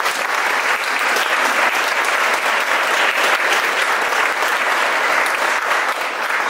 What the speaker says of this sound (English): let's give a round of applause to Ayanna Buchanan